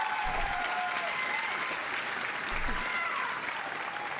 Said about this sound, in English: Why are they cheering?